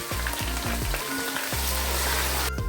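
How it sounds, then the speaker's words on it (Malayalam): Ginger, garlic, green chili and curry leaves fry in hot oil in a pan while pickle is being made, giving a loud, steady, crackling sizzle that runs unbroken throughout, with no talking. "കുറച്ച് കറിവേപ്പില ഇട്ട് കൊടുക്കാം ഇഞ്ചി വെളുത്തുള്ളി നന്നായിട്ട് മൂത്ത് കിട്ടണം"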